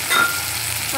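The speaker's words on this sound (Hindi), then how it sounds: "अब मैं इसमें डालूंगी ये टमाटर" Tomatoes tipped into a pan of browned onions, giving a steady broadband sizzle of frying food throughout, with a brief louder burst near the start and no speech.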